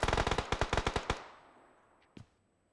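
Automatic gunfire in the mobile battle-royale game PUBG Mobile: a rapid burst of about a dozen loud shots over one second, then a fading tail and a single fainter shot soon after, no talking.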